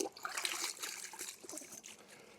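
Water running from a tap while hands are washed, a soft, steady splashing trickle at close range with uneven surges, no voices.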